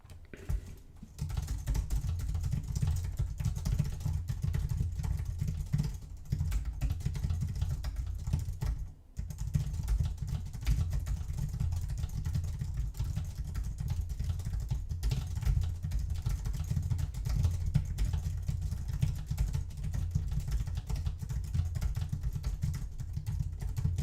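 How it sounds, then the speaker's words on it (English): Rapid, steady typing on a computer keyboard at reading speed, keystrokes running continuously with one brief pause, close to the mic, with no voices. "Typing at my reading speed."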